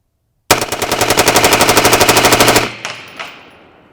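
Ballistic Advantage AR machine gun firing a sustained fully automatic burst of rapid evenly spaced shots, very loud and close, as the last rounds of a 6,000-round run, ending abruptly with a couple of trailing clanks.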